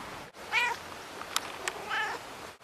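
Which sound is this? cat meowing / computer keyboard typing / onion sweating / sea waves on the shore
cat meowing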